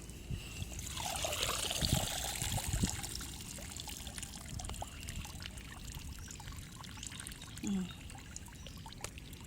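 Sea water pours and trickles steadily as a beachcombing basket is lifted out of the shallows, a soft continuous dribble with one brief gurgle near the end, faint and without voices.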